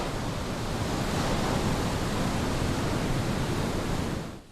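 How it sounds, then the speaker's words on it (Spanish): Ocean waves break constantly on a golden coast along South Africa's shore, a loud steady roar of surf that fades out near the end, with no voices. "el ruido de las olas que rompen constantemente en su dorada costa"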